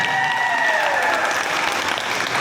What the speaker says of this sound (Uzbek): endi qarsak chalik baqiribroq